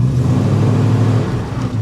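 A 1973 Plymouth Scamp's engine runs steadily at cruising speed, a loud, constant low drone with road noise and no break or change in pitch.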